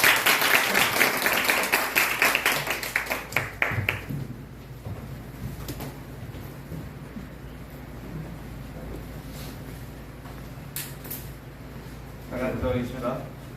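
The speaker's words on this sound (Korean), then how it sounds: "우리 박수 한번 칠까요?" A church congregation at a Sunday afternoon worship service bursts into lively applause that fades out within about four seconds, leaving a quiet room with faint murmurs and a brief voice near the end.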